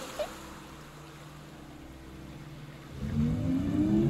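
An engine fires up in a video game. A quiet hum holds for a few seconds, then a loud low roar swells in with rising whine and keeps building to the end, with no talk.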